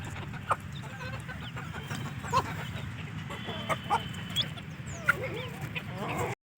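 Chickens cluck and chatter in short scattered calls over a steady outdoor background, with a few louder squawks standing out.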